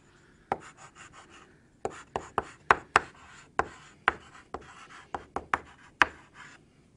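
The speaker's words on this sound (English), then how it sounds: "So let's write that down to keep track." A pen writing notes while working a solid-state chemistry problem: a run of sharp scratchy strokes and taps in irregular bursts, close and fairly loud, with no talking.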